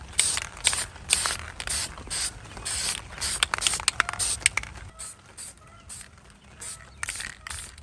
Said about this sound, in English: Really learn how to get strategic with your spray painting.